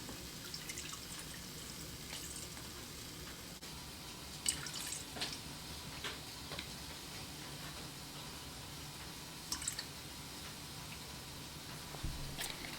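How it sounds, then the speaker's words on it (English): Warm water trickles and drips steadily into a mixing bowl on a scale, with occasional brighter splashes, a soft continuous pouring sound close by with no talk. "put 240 grams of that warm water in this mixing bowl"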